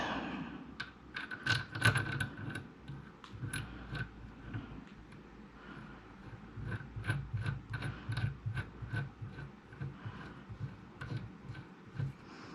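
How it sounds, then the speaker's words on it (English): Small internal ratchets click as a blank fire device threads into the muzzle of an Argentinian FMAP FAL rifle, making a quiet, close series of irregular metallic ticks and clicks. "And it has little internal ratchets to keep it from not coming out immediately."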